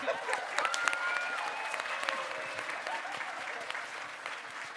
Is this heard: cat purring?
no